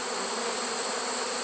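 Honeybees swarm thickly around a swarm trap, a dense, loud and continuous buzzing drone with no pauses, close to the listener.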